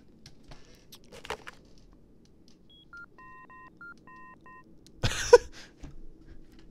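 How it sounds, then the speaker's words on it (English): Telephone keypad presses in the video game Fahrenheit, a short series of clean, evenly spaced DTMF tones in a quiet scene, followed by a louder clunk or rustle. "Best dial tone ever."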